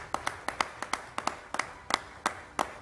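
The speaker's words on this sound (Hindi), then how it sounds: "इन तालियों में मुझे मजा नहीं आया" Audience clapping at an awards event, sparse and rhythmic, about a dozen sharp claps falling in a steady beat, moderately close with a faint room murmur behind and no voices.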